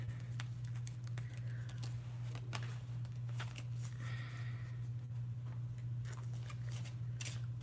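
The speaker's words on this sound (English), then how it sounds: "So, I got these new cards that I'm shuffling." A new deck of tarot cards is shuffled by hand in quick, irregular bursts of soft riffling and flicking, close by, over a steady low electrical hum.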